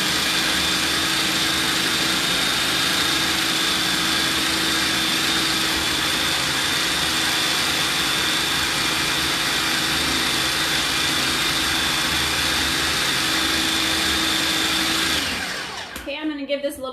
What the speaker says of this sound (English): I have an old food processor.